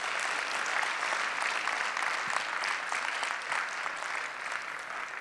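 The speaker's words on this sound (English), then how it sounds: "So I want to give a round of applause to our 75 awardees here tonight." An audience at an award ceremony honouring dozens of awardees applauds in a steady, dense wash of clapping that holds for several seconds without letting up.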